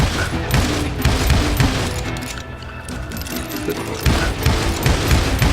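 Rapid gunfire crackles in the Western shooter game Call of Juarez Gunslinger, loud bursts of shots in quick succession with a short lull midway before the firing resumes.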